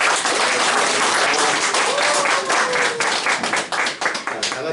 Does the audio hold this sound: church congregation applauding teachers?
yes